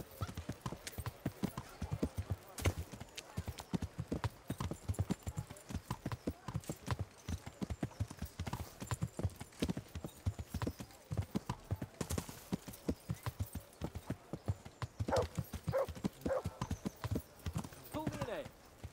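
Rhythmic clip-clop of horse hooves trotting steadily in Kingdom Come: Deliverance, with scattered voices talking over game background sound.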